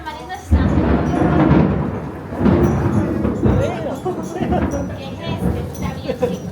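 Thunder rumbles low and heavy during a tour near artisanal towns and hot springs in El Salvador, a loud rolling boom partly under people chatting nearby.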